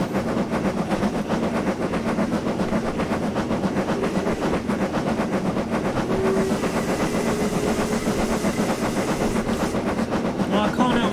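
Black 5 steam locomotive in Train Simulator 2021 running continuously and loudly, with a steady rapid chuffing beat and rhythmic rail clatter throughout, plus a brief whistle-like tone partway through.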